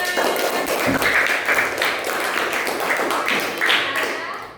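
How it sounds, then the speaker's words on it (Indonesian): Students in a classroom clap their hands in applause, a dense patter of claps at close range lasting a few seconds, with some voices underneath before it tapers off. "Betul, tepuk tangan"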